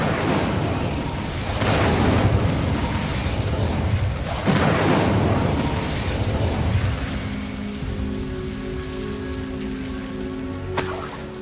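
Incendio fire spell cast in a Hogwarts video game, a couple of loud whooshing, crackling bursts of flame over steady ambient hiss, followed by quieter noise and a short bright chime near the end.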